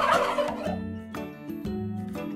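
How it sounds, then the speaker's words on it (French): A farm turkey gobbles in quick warbling bursts, loud and close, with light music running underneath. "Le dindon."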